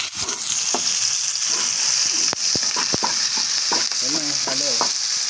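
Onions hissing steadily as they fry in a pan, with sharp spatula clacks and scraping stirs breaking through the loud, close sizzle.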